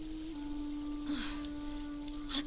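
Steady rain patters in the Ghost of Tsushima video game, a continuous soft hiss of rainfall with a faint sustained tone and small brief sounds over it.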